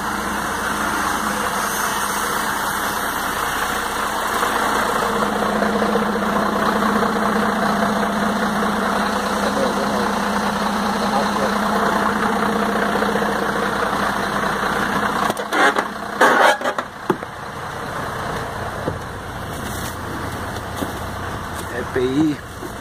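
A motorcycle taxi engine idles steadily at close range in Arapiraca, a low continuous hum with a faint mechanical knock, running unbroken for most of the stretch before a burst of handling noise near the end.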